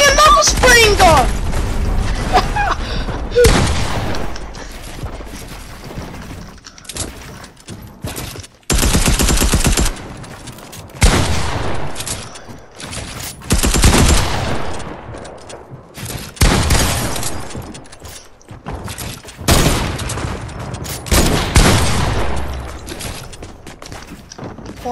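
Gunfire from a mouse spring gun and other weapons in Fortnite crackles in loud bursts and rapid volleys, separated by short gaps, with footsteps and game effects between them and a voice talking at times.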